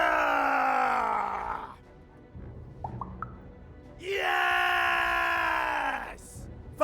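A battle cry scream in the video game Lost in Random: two long, loud, strained wailing screams from a voice, separated by a short quieter stretch with a few faint clicks.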